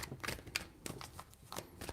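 Tarot cards being shuffled by hand, a run of soft riffling flutters and light taps close by, with no talking.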